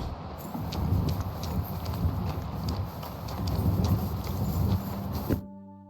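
Horse hooves clip-clopping at a walk in Kingdom Come Deliverance II, a steady, fairly loud rhythmic clatter over a dense ambient bed, ending abruptly near the close.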